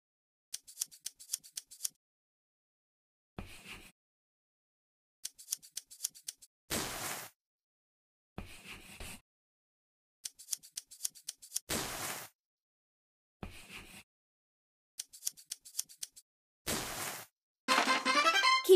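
Snipping scissors cut fabric in a sewing dress-up mobile game: quick bursts of crisp clipped snips repeat in short clusters, separated by silence and brief chime-like game effects, clean and close with no voices.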